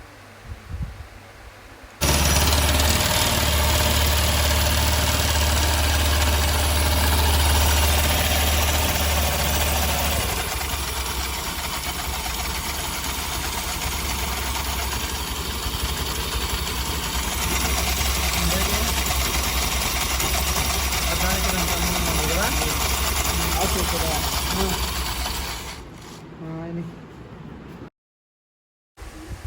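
A Honda Dio BS6 scooter with a vibration and noise fault starts and idles steadily up close, with a whirring belt noise over the low rumble, then cuts off near the end.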